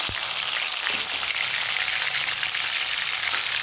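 Washed green chillies frying in hot oil, a steady dense sizzle with crackling and spitting throughout, loud and close with no talking.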